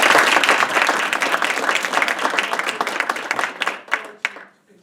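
An audience claps at the close of an evening lecture at Harvard Business School, a dense, loud burst of applause that thins into scattered claps and fades out over about five seconds.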